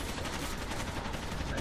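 Sniper rifle fire in the video game Rainbow Six Vegas, heard as a continuous dense wash of game noise at moderate level with no single distinct crack standing out.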